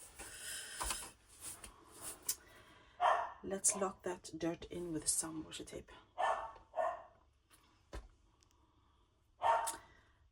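Several short dog barks from a dog wanting to go outside, sounding at intervals in the background while a person talks over them and handles tape and paper nearby.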